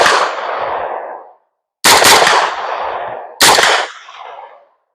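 Three loud, sharp gunshots from a parts-bin gun build crack at an outdoor shooting range, each followed by a ringing, decaying tail and spaced about 1.7 seconds apart, with no talk.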